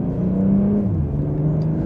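A 2025 BMW M240i's engine revs up and holds a gear from inside the cabin, a steady mid-pitched drone that rises then dips slightly, heard alone without talk.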